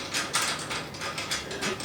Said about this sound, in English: Then I'll just take my ratchet,